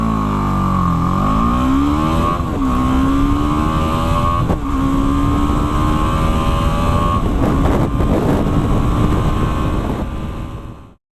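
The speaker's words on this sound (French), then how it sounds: "je vous propose un départ arrêté 0-100 km/h à bloc" BMW G310 GS motorcycle making a full-throttle 0-100 km/h launch from a standstill, the single-cylinder engine note sweeping up sharply through several gear changes, loud and close with wind rush, and no talk.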